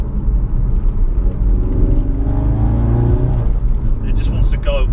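A Ford Focus RS fitted with the Mountune M400R upgrade rumbles loudly from its exhaust while driving. A steady low drone rises in pitch as the engine pulls, with a brief higher whine near the end.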